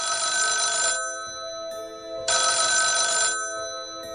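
A telephone rings in a building's management office in two long, loud, close bursts separated by a pause, with no voices.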